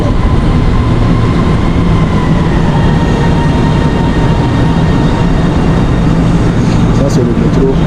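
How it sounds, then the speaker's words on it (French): A metro train in a Chinese city station rumbles steadily and loudly, a continuous low roar with a faint squeal near the end as it arrives. "Je pense que le métro est déjà arrivé là."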